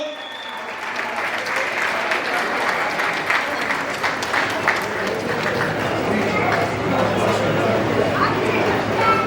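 Sustained applause from a crowd at a family celebration, steady and dense clapping filling the room for the whole stretch, with a low hum beneath.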